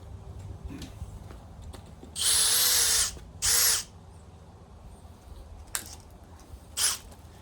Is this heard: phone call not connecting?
no